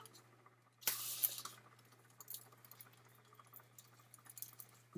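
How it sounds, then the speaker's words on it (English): A short hiss of spray from an aerosol can bursts out, followed by faint rustling and small handling noises in a quiet room. "I'll spray a little bit of adhesive"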